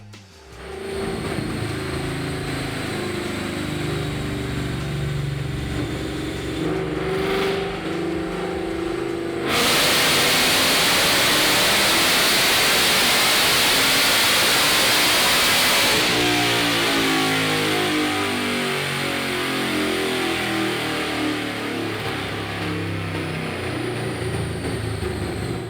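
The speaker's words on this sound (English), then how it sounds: "I already have the car loaded on the dyno," A 2018 Ford Mustang GT with long tube headers revs hard on a dyno, the engine climbing loudly through the gears into a sustained roaring pull before easing off, all close and alone.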